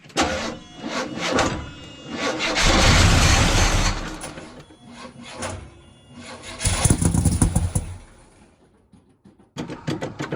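A long-dormant Buick GS engine being cranked over after years without running, with bursts of starter grinding and sputtering engine noise that rise and fall in several loud attempts, separated by brief pauses.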